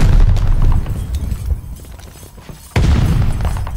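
A Gammon bomb goes off in Call of Duty: Vanguard, a loud, rumbling blast amid heavy battlefield noise, followed by a sharp second burst near the end.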